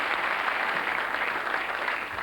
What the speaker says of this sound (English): Another round of applause, please, and another station.